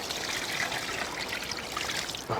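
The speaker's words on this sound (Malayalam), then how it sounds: "കുറച്ച് വെള്ളം ഒഴിക്കാം" Water pours into beef cooking in a pan, a close, continuous trickling stream lasting a couple of seconds with no talking.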